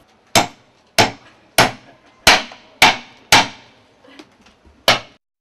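A hammer strikes a glass panel six times in an even, roughly half-second rhythm during a home show sales demonstration, each hit a sharp, loud crack with a short ringing tail, followed by a few lighter taps.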